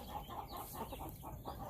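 Backyard chickens clucking softly and close by, a quick series of low, irregular clucks over faint background noise, with no talk.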